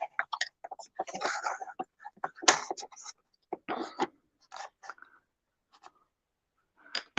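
Scissors cut paper for a no-sew spine lock journal, a few quick crisp snips and rustles at close range, with a little quiet speech between them.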